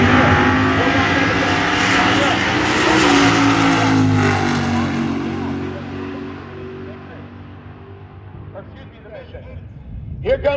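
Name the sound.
drag race car launching down the strip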